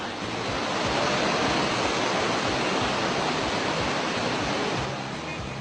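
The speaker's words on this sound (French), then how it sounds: "Ces cascades présentent un tableau des plus originales." Waterfalls on the Noun river near Foumbot and Bafoussam, a steady broadband roar of falling water filling the whole span at constant loudness, with no voices over it.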